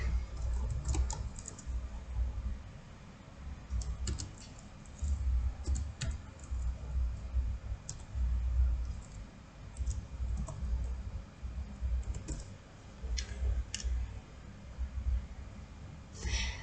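Keys clacking on a computer keyboard while a WordPress plugin name is entered into a search box, with sparse, irregular clicks in short bursts over a low background hum and no speech.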